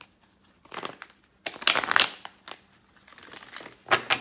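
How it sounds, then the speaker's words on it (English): Tarot cards are shuffled in several quick, papery riffles and rustles close by, with brief pauses between bursts. "when you see me shuffle like this again, I'm just trying to do it to make sure the cards feel right in my hand"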